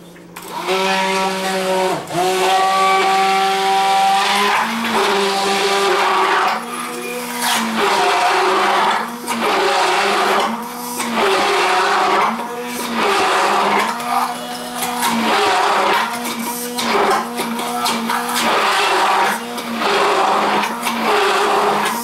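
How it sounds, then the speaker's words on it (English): An immersion blender whirs loudly in repeated bursts while making lasagna, its motor pitch rising and dipping as it works, with short pauses between pulses. "I'm not sure how I cooked before I got an immersion blender"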